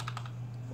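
Keystrokes on a computer keyboard while entering a web address, a few quick taps early on and then a steady hum, fairly close.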